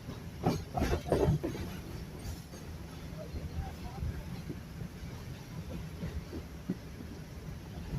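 A heritage museum train runs on a short stretch of an original 1859 railroad line, giving a quiet, steady low rumble with faint clicks from the rails. It continues behind a narrator's voice and a few louder knocks near the start.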